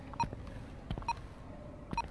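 Three short electronic beeps sound at regular intervals aboard a Star Wars cargo ship, faint against quiet background rustles and thumps.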